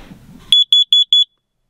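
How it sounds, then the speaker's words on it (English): A carbon monoxide detector in a Ford Ranger truck camper gives four sharp, evenly spaced high-pitched beeps, loud and close, after a brief low rumble, then falls silent. "Do have my carbon monoxide detector back here."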